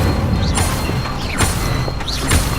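A fire spell cast in Hogwarts Legacy on PS5, heard as several whooshing bursts and crackles spaced through a busy mix of game effects, with no one talking.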